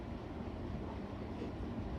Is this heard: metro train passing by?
yes